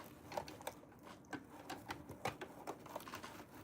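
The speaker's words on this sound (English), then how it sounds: "right now I am sewing down the ruffles at the bottom of the dress" A sewing machine stitches ruffles onto the bottom hem of a dress, a faint, quick patter of needle strokes running continuously for a few seconds.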